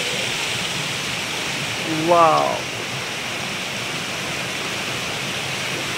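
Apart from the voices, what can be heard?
waterfall rushing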